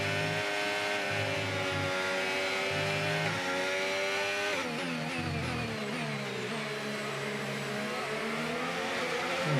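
F1 car engine in the F1 25 racing game, a loud high-pitched V6 scream climbing through gears with sharp shifts and revving, steady and close.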